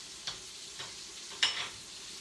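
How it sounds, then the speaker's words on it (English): Butter and heavy cream are whisked into a hot seafood pan with lemon. A steady sizzle runs throughout, and three distinct metallic whisk strokes stand out close up. "I'm going to whisk in a little bit of butter and heavy cream."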